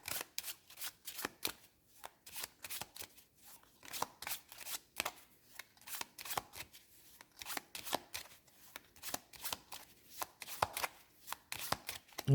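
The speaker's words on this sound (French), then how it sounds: "On remélange son deck." Cards in a deck for the Red Rising board game being riffle-shuffled over and over, sharp papery bursts repeating in a steady rhythm, close and fairly quiet, with no talking.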